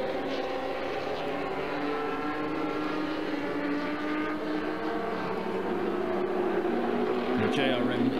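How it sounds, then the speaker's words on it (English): Classic race cars, including V8 machines, drive past on track at Nismo Festival 2017, a continuous loud engine drone with rising and falling tones while a commentator talks over it. "You're hearing all of these great classic cars back on track."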